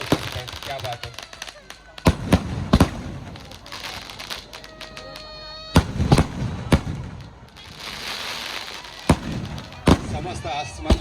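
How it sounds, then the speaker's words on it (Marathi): Firecrackers burst at a wedding celebration with sharp, loud bangs every second or two over a continuous crackling roar and hiss, sometimes with a whistling rocket, as someone talks over the noise. "समस्त आसमंत मात्र या ठिकाणी धुमधुमला या फटाक्यांच्या आशीर्वादाने."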